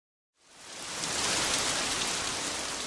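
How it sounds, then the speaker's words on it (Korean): A heavy shower of rain pours down outside a window, a dense, steady hiss that rises quickly from silence and holds loud and even. "창밖으로 소나기처럼 억센 비가 내리고 있다"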